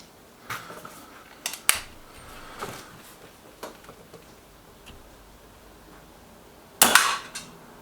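A Kral NP-02 Puncher .22 air rifle fires pellets, giving a few sharp clicks and snaps scattered across a quiet stretch, with the loudest crack near the end.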